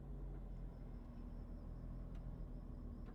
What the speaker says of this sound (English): That's the car down there that Lou was talking about.